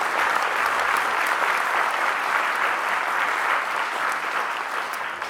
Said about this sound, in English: Round of applause again for Ben.